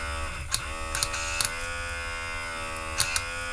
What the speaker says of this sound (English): we'll close the valve and then we'll short the motor. And you can see that is inflating.